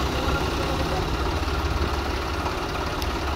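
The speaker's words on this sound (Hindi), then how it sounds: "ट्रैक्टर नहीं रुकेगा" Tractor engine running outdoors, a steady loud low rumble with continuous vibration and no change in pace, heard alone without talk.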